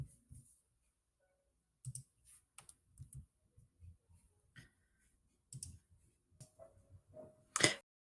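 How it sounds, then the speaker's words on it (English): Someone types an answer on a computer keyboard, producing sparse, soft key clicks in short irregular bursts separated by quiet gaps, close and faint, with one sharper click near the end. "I'm going to type that in."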